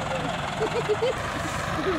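A modified Massey Ferguson MF 385 tractor pushes a loaded 20-foot sugarcane trolley, its engine a steady, loud, close drone with faint whining tones, with voices talking over it.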